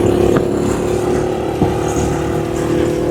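A motorcycle engine drones steadily while ridden, a constant close hum with slight swells and no speech over it.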